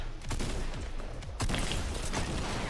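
Rapid bursts of gunshots in the video game Fortnite, loud and dense, repeating through the short stretch with no talk over them.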